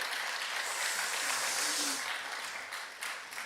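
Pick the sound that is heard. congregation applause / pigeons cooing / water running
congregation applause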